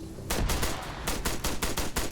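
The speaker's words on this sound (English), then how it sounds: "heard the gunshots" Rapid gunshots and bursts of machine gun fire from a multiplayer military shooter game battle in a wooded area, loud and close, with sharp repeated cracks in quick uneven rhythm and no talking.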